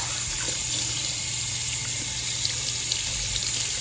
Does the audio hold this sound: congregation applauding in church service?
no